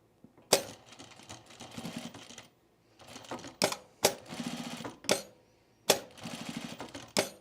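A sewing machine tacks pre-quilted jacket fabric in a series of stitching runs separated by pauses. Each run starts with a sharp click, followed by fast mechanical whirring, close and clear, with no talk.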